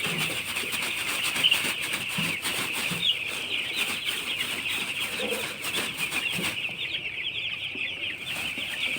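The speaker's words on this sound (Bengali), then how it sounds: "এই হচ্ছে ব্রয়লার মুরগি" Broiler chickens on a poultry farm cluck steadily and fairly close, a dense flock chatter with a continuous high-pitched drone of many birds, no talking.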